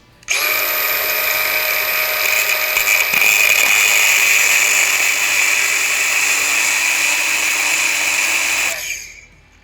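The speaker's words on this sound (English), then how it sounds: "So now I'm gonna grind a notch in them like this." A power grinder cuts a notch into a bolt for a diesel rat rod engine build, a loud, continuous high whine with grinding noise that holds steady for about nine seconds, then winds down and stops.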